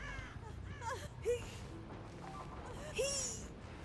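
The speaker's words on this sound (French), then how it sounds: "un corbeau qui s'est envolé là-bas" In the Dead by Daylight video game, a crow gives two short, sharp caws as it flies off, heard over quiet ambient game sound.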